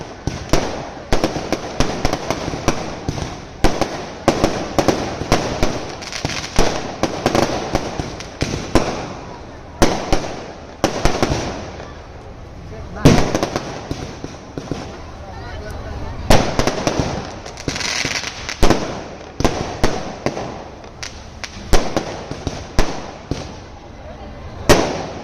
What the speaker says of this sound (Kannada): ಜಾತ್ರಾ ಮಹೋತ್ಸವದಲ್ಲಿ ಕಣ್ಮನ ಸೆಳೆದ ಸಿಡಿಮದ್ದು ಪ್ರದರ್ಶನ